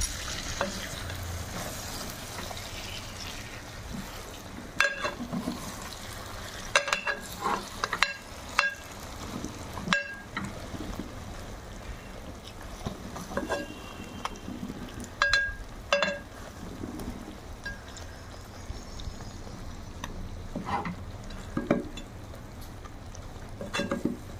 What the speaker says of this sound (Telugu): వంకాయలు రెండో వైపుకి తిప్పుకుందామండి